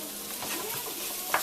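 Vegetarian chili seasoned with chili powder is stirred in a hot pan, with a brief soft sizzle and scraping of the spoon, close and clear, ending in a sharper scrape.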